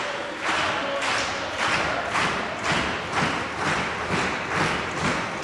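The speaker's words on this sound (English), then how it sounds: "I think it's a wise move for Ciampa to keep wearing him down with these chops" Chest chops between two pro wrestlers, Riddle and Ciampa, at an indie wrestling show: a run of sharp slapping impacts repeating at a steady pace of roughly one every half second, with crowd noise underneath.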